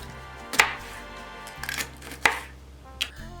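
A knife slicing a green pepper in half on a cutting board for Spanish lentejas, four crisp separate chops spaced about a second apart, close, over a soft music bed.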